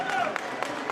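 An audience at a boxing open workout applauding and clapping for Logan Paul, a dense steady patter of many hands with a few sharper claps, with talking over it.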